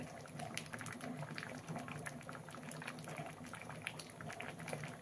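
Pieces of dough for traditional tamarind-jaggery varanphal simmer in a pot of dal over medium heat, giving a continuous soft bubbling and popping, fairly quiet and close, with no talk.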